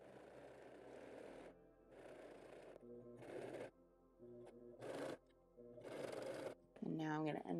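A domestic sewing machine runs a back stitch on an apron strap, buzzing in several short, even bursts with brief gaps between them, close and clear, followed by a rattling mechanical whir at the end.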